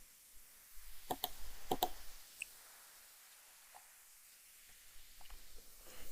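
Computer mouse clicking during an Excel spreadsheet lesson: a few sharp close clicks in a quick cluster, then scattered fainter clicks over a quiet hiss.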